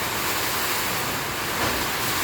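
Heavy storm rain pours outside a flimsy shack, a dense, steady hiss and roar that holds at one loud level throughout with no pauses.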